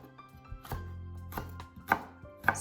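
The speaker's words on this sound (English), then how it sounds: "here I'm going to cut the top and the bottom part out, and after slice it in half" Celery sliced with a knife on a cutting board, a handful of crisp, distinct chops spaced about half a second apart, close and fairly quiet.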